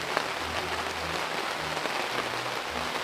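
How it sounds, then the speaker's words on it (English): Steady rain pours down outdoors in a garden, a dense, continuous hiss of drops hitting surfaces, with low rumbles beneath and no voices. "Starting to rain pretty good, so we'll get up to the house."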